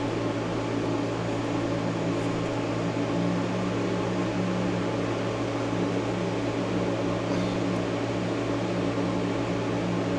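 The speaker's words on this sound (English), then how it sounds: "And now we're gonna put it in the lathe quickly." Lathe running in a workshop during a roadster steering build, a constant loud whirring hum with broadband mechanical noise that holds steady throughout, with no voices.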